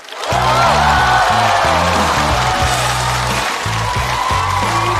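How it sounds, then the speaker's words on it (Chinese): An audience applauds a performer at a stage show, a sustained wash of clapping that starts abruptly and holds steady over band music playing underneath. "再次把热烈的掌声送给珊珊哥"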